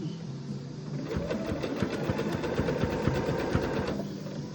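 A sewing machine stitches a round jelly roll rug, a steady fast mechanical whir with rapid regular needle pulses starting after a soft hum and running loud and close.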